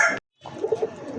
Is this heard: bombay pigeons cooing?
yes